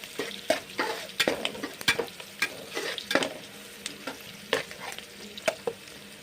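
Onions frying in a pan for chicken curry while being stirred, with repeated clacking scrapes of a spoon against the pan over a steady sizzle, close up and with no talking.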